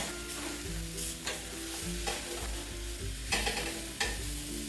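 Banana flower bhakri roasting on a banana leaf on a griddle, a steady low sizzle and crackle with soft scraping and occasional louder taps as the leaf and flatbread are handled, close and without talk.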